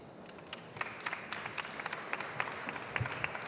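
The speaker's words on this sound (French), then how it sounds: "Nathalie, on peut l'applaudir." Audience applause at a Paris Retail Week 2016 conference session: quiet, somewhat distant clapping with individual claps standing out over a few seconds.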